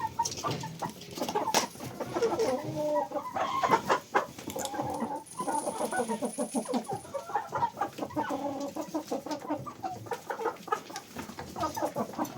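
Hens clucking and squawking in a farmyard where goats are kept, a busy near chorus of overlapping calls with bursts of louder squawks, continuous throughout.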